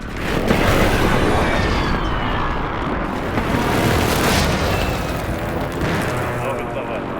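An airstrike explodes in a video game as a dense, sustained roar of blasts and rumbling debris. The noise fills the whole stretch at high loudness, with several swelling peaks.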